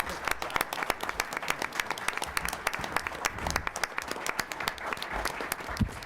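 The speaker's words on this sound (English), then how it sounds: "join me in a round of applause for our candidates" An audience at a League of Women Voters candidates forum claps for the candidates, fairly quiet but distinct individual claps in a steady, slightly uneven rhythm throughout.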